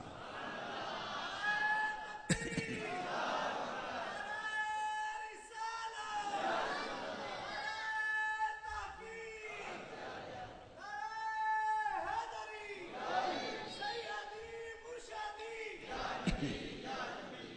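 At a Milad conference for 13 Rabi ul Awal, a large crowd chants religious slogans in loud, rhythmic call-and-response, with a lead voice calling out and many voices answering in sustained, echoing waves.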